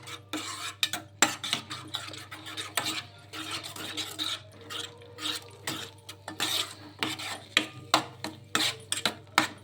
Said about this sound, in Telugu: ఇలా రవ్వను వేసేసుకొని మొత్తం ఒకసారి బాగా కలిపేసుకుందాము.